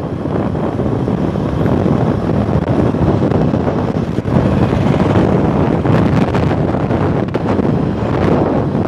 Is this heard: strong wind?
yes